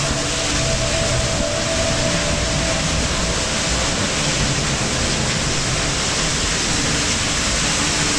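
Waterfall along a back trail at Disney's Animal Kingdom, a dense, loud, continuous rushing roar of falling water, steady and unbroken with no voices over it.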